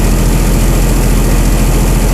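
Chrysler Slant 6 inline-six powering a generator, converted to Holley Sniper EFI, holds a steady high idle, a close, loud, even engine drone with no talk.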